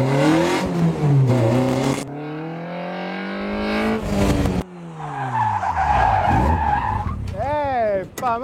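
A car skids through a gymkhana turn in a loud sliding tire squeal with engine revving, broken by short bursts, while people talk over and between the runs.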